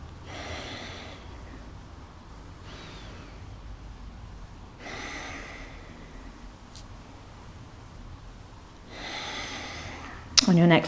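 Slow, audible breaths drawn in and out during a seated yoga twist, with long, airy inhales and exhales spaced every few seconds, close and soft, ending with a brief louder rustle.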